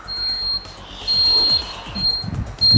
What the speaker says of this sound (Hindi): ये जो बजर है ये बजना स्टार्ट हो जाता है।